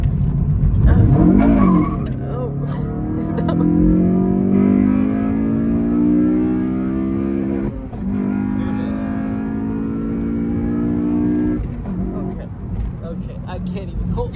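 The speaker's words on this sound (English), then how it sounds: "We'll see if we can do a little front wheel drive action skid." A front-wheel-drive 8th-generation Honda Civic Si skids on a bumpy road, its engine revving and droning while tires squeal. People talk in the cabin over the steady engine note.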